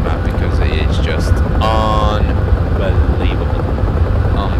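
A Huey helicopter in the DCS World flight simulator flies low over the Marianas Islands map, its loud, steady rotor and engine drone running throughout beneath a voice.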